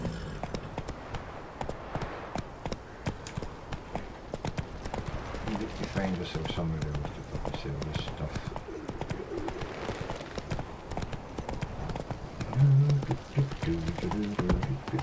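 Rhythmic hoof clip-clops of a galloping horse in The Witcher 3 run steadily under someone talking, with music and game-like ambience in the background.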